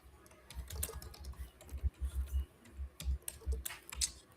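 Typing on a computer keyboard that is acting up during a co-working session, with rapid irregular clicks and clacks of keys in quick bursts, fairly close and steady, with no voices.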